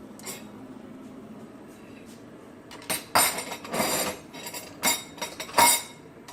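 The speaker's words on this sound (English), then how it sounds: "Now I'm going to take my bowl." A bowl being picked up and handled in a kitchen, with a quiet stretch followed by several loud, close clinks and knocks of dishes.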